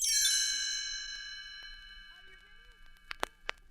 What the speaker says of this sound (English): You'll know it's time to turn the page when you hear the chimes ring like this.